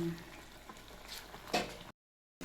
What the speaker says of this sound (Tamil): அரிசி பச்சரிசி போட்ட உடனே ஒரு கிளறி விட்டணும், இல்லைன்னா அடி பிடிக்கும்